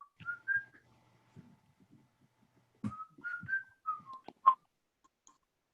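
Someone whistles a short melodic tune in two brief phrases with a pause between, close by, with faint clicks and thumps in the background.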